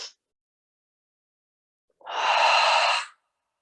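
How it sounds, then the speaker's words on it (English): A single deep, audible exhale during a strength and stretching session, close and clear after a brief breath at the start, then silence. "Pull that next breath in, release it out"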